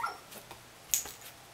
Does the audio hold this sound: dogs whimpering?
yes